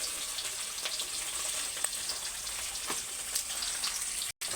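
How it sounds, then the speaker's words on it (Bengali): Steady crackling sizzle of fish frying in hot oil, a close, continuous hiss with scattered sharp pops throughout. "তেলটা আমার তেতে গেছে মাছগুলো এক এক করে ছেড়ে দেবো"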